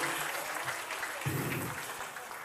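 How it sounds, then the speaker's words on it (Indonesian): A seminar audience gives a round of applause, loud and continuous clapping from a large room that carries on steadily, with a brief low murmur partway through. "Berikan tepuk tangan buat kita semua."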